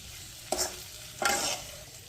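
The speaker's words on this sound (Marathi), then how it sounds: "आधी तेलामध्ये छान आलू आणि शिमला मिर्च भाजून घ्यायची आहे, परतून घ्यायची आहे छान" Potatoes and capsicum fry in oil under a low, steady sizzle, with two distinct spatula strokes scraping through the pan about a second apart, close and without talk.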